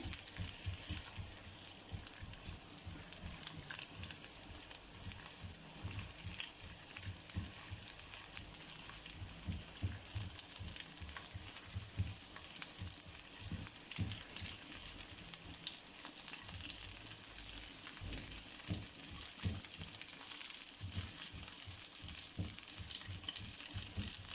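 Garlic sizzles and crackles steadily in 1.5 teaspoons of oil in a pan as it sautés, with occasional stirring scrapes, continuous and fairly close.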